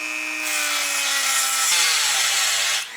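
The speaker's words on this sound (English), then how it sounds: "Okay, Dremel it is." A Dremel rotary tool grinds into a stripped Torx bolt on a totaled BMW M5 under repair, a steady high whine starting after a brief pause and cutting continuously at close range, then dropping off near the end.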